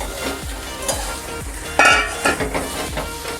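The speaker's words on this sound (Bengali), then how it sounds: "আবারও খুব ভালো করে নেড়ে চেড়ে নেব।" Fried potatoes are stirred into a cooked spice masala in a pan for Bengali egg and potato curry, with a steady sizzle, rhythmic spatula scrapes and a few metallic clinks.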